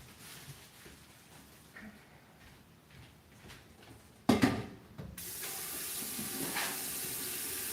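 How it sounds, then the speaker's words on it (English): A running kitchen tap rinses sweet potatoes: a burst of splashing water, then a steady, moderately loud stream of tap water that continues to the end. "Alright, sweet potatoes. We're gonna wash them."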